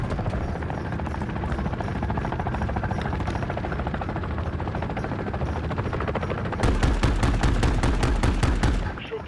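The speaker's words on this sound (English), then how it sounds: "Should be a launcher in the gear drops. Make short work of that helo." In a Call of Duty battle at a reactor, a helicopter's rotor thumps steadily while gunfire rattles underneath, then a loud burst of rapid machine-gun fire erupts near the end.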